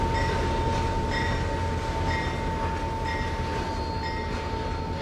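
Train braking in the Trainz 2022 simulator on Midwestern rails: a loud, continuous rolling rumble with a thin sustained squeal layered on top, steady for the whole stretch.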